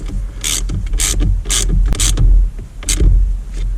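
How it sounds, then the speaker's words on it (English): A hand ratchet tightens the negative battery terminal on a Porsche Cayenne, giving several short bursts of rapid clicking with brief pauses between strokes, close up and clear with no speech. "Now we will tighten up the negative terminal."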